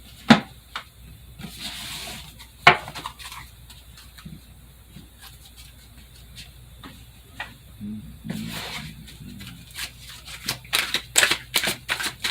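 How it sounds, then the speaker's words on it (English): Tarot cards being shuffled by hand, soft scattered riffles and slaps that grow busier and louder toward the end over a quiet background. "I might as well throw some cards."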